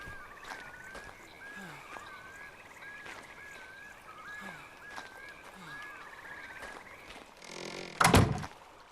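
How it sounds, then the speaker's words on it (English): A door in ARK: Survival Evolved shuts with a single heavy thunk near the end, loud against a faint bed of ambient creature calls and game noise. "It's just another door."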